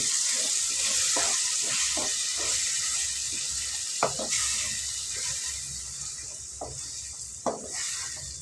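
Close, steady sizzling of ground tomato in a pan with scattered stirring clinks and scrapes; no voices.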